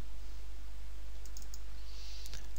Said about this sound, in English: again inside here double click.